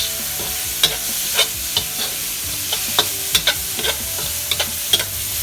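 Home-grown, previously frozen and blanched broccoli being tossed in a hot pan, a constant hiss of sizzling with scattered light clicks and taps from the pan and utensil, close and clear.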